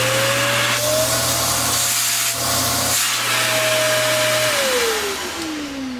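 Upright vacuum cleaner running steadily with its hose open during a suction test, a loud continuous motor whine whose pitch rises then drops as the hose airflow changes, heard alone.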